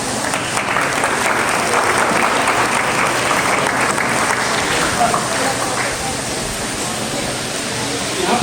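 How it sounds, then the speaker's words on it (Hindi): Loud, sustained audience applause fills a hall at a Shri Ling Puran religious gathering as a guest is welcomed onto the stage. The clapping is thick and continuous, with no voices standing out. "जोरदार तालियों से"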